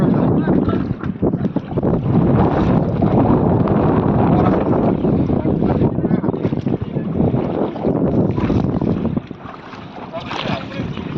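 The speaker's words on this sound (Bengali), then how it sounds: "নৌকা করে এখন যাচ্ছি" A boat motor rumbles steadily over splashing water and strong wind buffeting the microphone, loud and close throughout, easing slightly near the end, on a boat ride at Maithon Dam.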